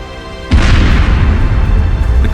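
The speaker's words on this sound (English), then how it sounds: "At first glance, the explosion is insignificant, but it is followed by a fire" A tank hit by a kamikaze drone explodes: a sudden, very loud blast that swells into a sustained, heavy roaring rumble that continues to the end.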